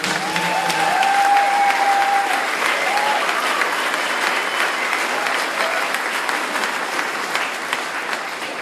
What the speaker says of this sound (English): So would you please give a big round of applause?